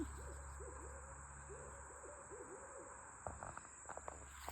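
Owls hooting at night on a hillside, a steady series of soft, low hoots repeating over a constant hum of insects, joined near the end by close footsteps and rustling from someone walking uphill.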